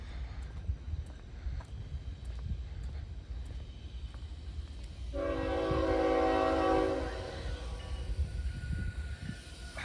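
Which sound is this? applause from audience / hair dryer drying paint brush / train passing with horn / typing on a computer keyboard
train passing with horn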